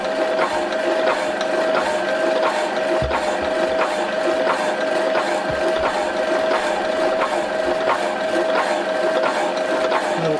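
A machine runs continuously close by, giving off a steady mechanical whir and hum with faint ratcheting, gear-like clicks throughout, and no voices.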